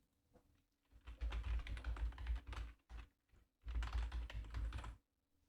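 Computer keyboard typing an email address into a sign-up form, two dense bursts of rapid keystrokes separated by a short pause, close and clear with no talk.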